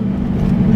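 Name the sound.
Jeep engine with supercharger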